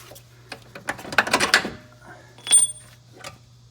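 A car control arm drops out during suspension work on a Fox-body car: scattered metallic clanks and rattles, a denser burst of clatter, then a brief ringing metal tone over a low hum.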